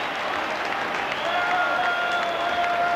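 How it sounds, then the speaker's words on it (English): A large crowd of Rangers football fans cheers and applauds in a stadium during a 1990 League Cup final trophy presentation, a continuous broad roar with faint tonal whistles or horns rising through it. "A huge cheer going up from the Rangers fans"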